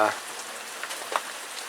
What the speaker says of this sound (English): you can hear it, it's raining.